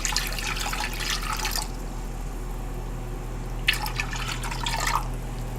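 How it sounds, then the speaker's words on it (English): Water is poured into a pot of corned beef in two splashing bursts separated by a short pause, close and without talk. "that was about a cup of water"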